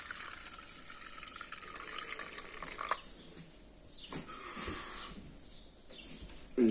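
A sea moss, pineapple, ginger and lemon drink is poured through a strainer, making a close liquid splashing and trickling that rises and falls in streams with brief pauses and a final clatter.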